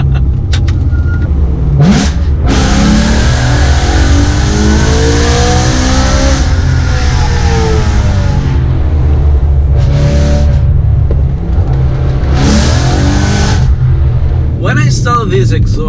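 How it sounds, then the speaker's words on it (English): A BMW M3 with an aftermarket exhaust, valves open, revs loudly and repeatedly, rising and falling in pitch with sharp crackling bursts between revs, very close and aggressive. "with the valves open, the car is really way too loud"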